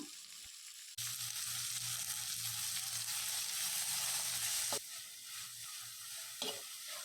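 Sliced onions, ginger-garlic paste, green chillies and salt sautéing in a pan, with a loud, close, continuous sizzle and brief stirring scrapes, no talking.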